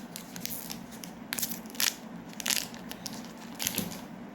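A candy tablet is snapped and broken apart by hand in a few separate crunchy cracks, each with crinkly crackling, close and fairly loud, with no talking.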